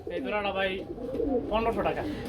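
Pigeons coo at a pigeon farm in short, rounded warbling calls close by, heard alongside people talking.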